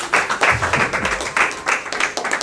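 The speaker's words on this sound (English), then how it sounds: "Round of applause" An audience at a launch event for an ushering platform bursts into applause, the dense clapping rising and falling in waves, loud and steady throughout.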